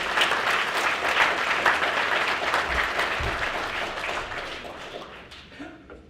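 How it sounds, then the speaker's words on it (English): Audience at a REALTORS Care awards ceremony gives steady, dense applause that fills the hall and slowly fades toward the end. "Give these folks a round of applause."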